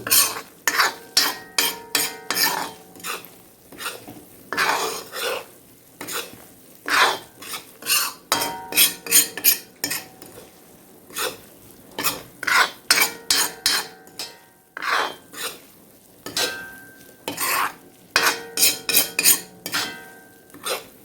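Beef pieces in oil being stirred in a pan with a metal spoon, a close, rhythmic series of clinks and scrapes against the pan over a faint sizzle, with brief pauses between bursts and no talking.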